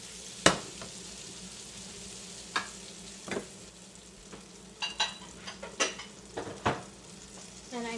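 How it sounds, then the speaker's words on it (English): Green beans stirred in a pan over butter on medium-high heat: a soft steady sizzle under scattered sharp scrapes and clinks of a utensil against the pan, close and without speech. "I'm simply going to toss my green beans in. And I'm pretty much just going to stir these"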